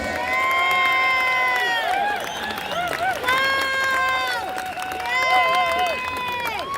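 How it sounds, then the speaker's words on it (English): A crowd at a London street march against Starmer cheers and whoops, loud sustained shouting voices dominating over scattered clapping, swelling in waves across the clip. "Give him a massive round of applause"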